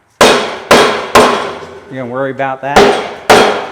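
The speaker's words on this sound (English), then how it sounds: "I'm going to beat it with a hammer." Hammer blows beating on an object on a small farm with a Highland mini cow, five sharp loud strikes at uneven spacing, with a short spoken question between the middle hits.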